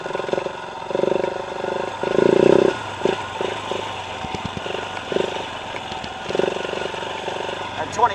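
A KTM 690 Enduro single-cylinder motorcycle rumbles steadily at low speed, about 2,500 rpm, on a Hawaiian beach ride, its engine droning under a rider's talk.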